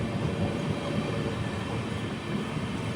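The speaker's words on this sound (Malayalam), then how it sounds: "പന്ത്രണ്ട് 57 ട്രെയിൻ ഇപ്പോൾ വള്ളിയൂർ റെയിൽവേ സ്റ്റേഷനിലേക്ക് ഇതാ എത്തുകയാണ്" Amrit Bharat Express rolling into Valliyur station, a steady, even rumble of the train passing at close range, no distinct clatter or voices.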